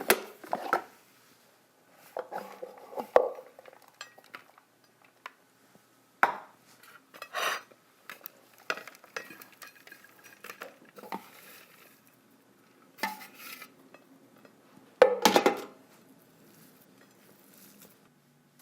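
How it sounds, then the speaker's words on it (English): Raw vegan chocolate cake mixture pressed and shaped by hand on a plate, with soft sticky pats, squishes and occasional light clinks against the plate in scattered quiet bursts. "I'm going to form it into a cake right on this plate."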